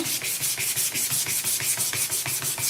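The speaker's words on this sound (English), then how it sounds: "I'm just going to give it a sanding all the way around" Sandpaper rubbed around the plastic throttle tube of a motorcycle being prepared for heated grip installation, a steady rhythmic back-and-forth scratching with evenly spaced strokes, close and fairly loud, with no talking.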